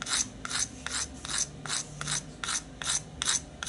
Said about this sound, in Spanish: Con la lija un poco más fina, entonces vamos a pulir en un solo sentido.